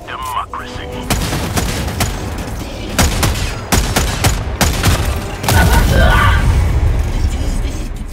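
Rapid explosive gunfire from the Dominator gun in Helldivers 2 hitting armored Striders, a loud burst of closely spaced booming shots with heavy rumbling impacts, near and dense, mixed with game noise.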